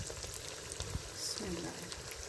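Curry masala fries in a pan with a soft, steady sizzle and a few light stirring sounds, close but fairly quiet.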